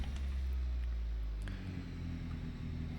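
A car fitted with the new 2.3 turbo RS engine idles roughly just after startup, a deep, loud, uneven low rumble that runs continuously, with no voices over it.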